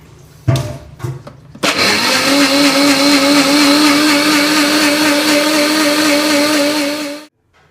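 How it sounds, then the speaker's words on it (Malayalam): A few short bursts, then a mixer grinder blending coconut with water roars into a loud, steady whir for several seconds before cutting off abruptly. "അത് മിക്സിയിലിട്ടൊന്ന് അടിക്കാം."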